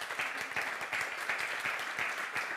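Faint, steady audience applause at a summit hosted by the National Library of Latvia, an even patter of many hands clapping from across a large hall.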